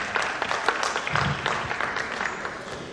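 An audience claps for a speaker at an astrology talk, a moderate patter of hands that holds fairly steady and eases off slightly toward the end.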